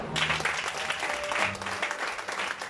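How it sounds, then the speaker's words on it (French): A church congregation claps and applauds together in praise, a steady dense patter of many hands filling the room at moderate level, with a faint sustained tone and low murmuring underneath. "On va acclamer le Seigneur."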